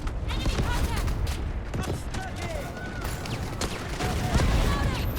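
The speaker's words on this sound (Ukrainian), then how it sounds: "десь згори стріляють" Rapid bursts of gunfire in the video game Delta Force crack repeatedly, close and loud, with scattered shots from above between volleys and some talking underneath.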